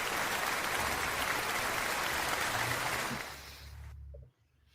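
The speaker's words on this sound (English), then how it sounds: "Round of applause, ladies and gentlemen." Applause from an audience at the close of a medtech podcast episode: dense, steady clapping fills the first three seconds, thins out and fades, then stops abruptly, leaving near silence.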